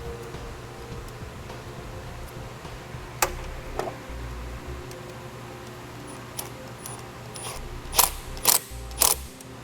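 A nut being threaded back onto the battery stud of a Ford Edge while fitting a Roadmaster battery charge line kit, heard as quiet ratcheting clicks and metallic ticks in short bursts, growing sharper toward the end, with no talking.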